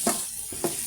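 Onion and garlic sautéing in a pan for a simple vegetable dish, a soft steady sizzle with two brief louder stir bursts.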